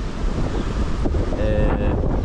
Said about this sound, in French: vu le vent qu'il y a, ouais, je sais même pas si vous m'entendez